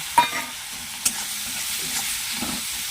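Chopped onion and garlic fry in oil while being stirred, a soft steady sizzle close by, broken by a couple of sharp scrapes of a spatula against the pan.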